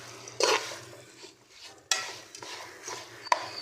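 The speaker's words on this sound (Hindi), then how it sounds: "हल्की आंच पे आपने इसको मसाले को मिक्स कर लेना है।" Pickle masala being mixed in a pan over low heat, with a few scraping stirs standing out against a faint steady background hum; no one speaks.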